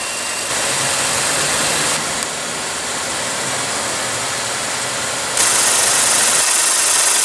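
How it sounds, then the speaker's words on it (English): A 2016 Ford F-150 pickup's 5.0-liter V8 engine runs steadily at idle, a dense broadband rumble that holds even throughout, with a slight step up in level near the end; no voices. "powering the F-150 here is a big old traditional 5-liter V8 engine"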